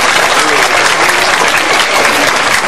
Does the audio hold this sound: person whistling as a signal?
no